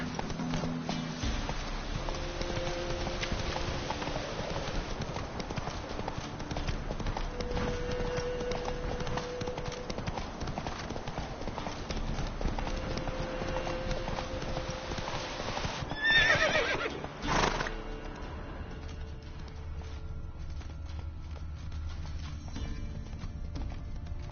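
Roach, the horse in The Witcher 3, gallops with steady rapid hoofbeats throughout, then gives a brief whinny and snort near the end as the pace slows.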